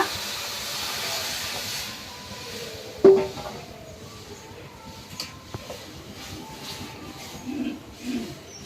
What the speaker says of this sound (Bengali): এবার কিন্তু ডালটা ঢেলে দেবো আর ডাল ফুটতে দেখেছ